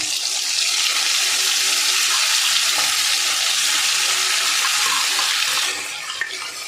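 Hilsa fish sizzles loudly in a pan with spice paste while cooking for hilsa pulao, a dense continuous frying hiss close up that eases slightly near the end.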